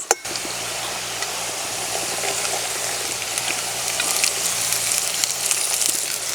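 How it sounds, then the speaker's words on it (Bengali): Carrot, potato and green beans fry slowly over lowered heat in a pan, making a continuous close hiss of sizzling that grows slightly louder over several seconds, with no talking. "কমিয়ে দিয়ে সবজিগুলো আস্তে আস্তে ভাজতে হবে।"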